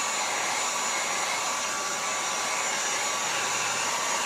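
A heat gun warming automotive vinyl gives a steady, continuous whooshing blast of air, loud and close, with no voices.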